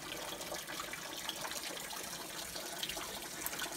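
A small creek trickles below a waterfall with a steady, even wash of running water, continuous and moderately close, with no voices.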